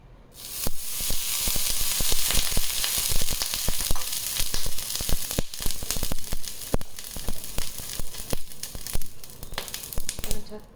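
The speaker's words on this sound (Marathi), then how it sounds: "आता आपण त्याचा डोसा बनवून घेऊ" Udupi dosa batter, salted with a pinch of sugar, spread with a spoon on a hot pan: loud, continuous close sizzling and hissing with scraping ticks of the spoon throughout.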